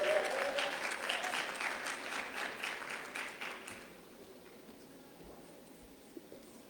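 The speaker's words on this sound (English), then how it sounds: "A round of applause." An expo audience applauds with dense clapping for about four seconds, then the applause fades out into near quiet.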